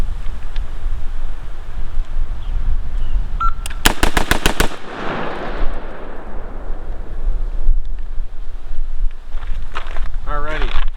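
A rapid string of about six sharp AR-15 rifle shots at an outdoor range during a trigger comparison, loud and close, fired in quick even succession, with the rest of the clip holding low background rumble.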